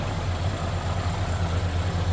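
A 1978 Cadillac Eldorado with a 425 V8 idles smoothly and steadily, a low even engine rumble close by with no voices over it.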